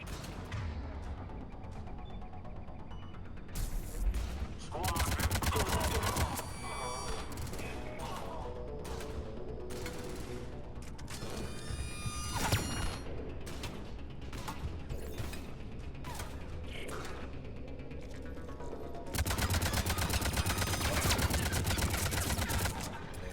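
Sniper rifle fire and combat in Mass Effect 3 on Xbox: bursts of loud gunfire and mechanical clatter in several clusters, with sharp reports echoing over the game's background noise.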